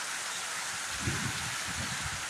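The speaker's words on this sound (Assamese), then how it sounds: "আজি বৰষুণ পৰিছে আমাৰ ট্ৰেইনিং চেণ্টাৰত" Rain falls steadily in a soft, even hiss, with faint low rumbles in the background.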